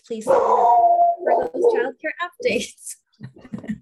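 A dog howls loudly and long right beside a person speaking, the drawn-out wail overlapping the talk before it trails off.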